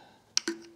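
Two quick plastic clicks, close and faint, come as a lid is fitted onto a Trinova foam cannon bottle filled with touchless car wash soap.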